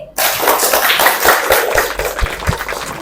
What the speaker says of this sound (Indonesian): Beri tepuk tangan yang meriah untuk Ovi